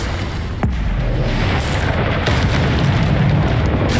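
Confringo spell explosions in Hogwarts Legacy, loud booming blasts with a sharp crack early on, over a dense rumbling roar of battle that continues throughout.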